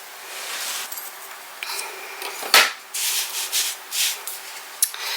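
Paper pieces being burnished onto a chipboard Halloween album, giving close, soft sanding-like rubbing strokes in several short bursts, with a sharper scrape near the middle.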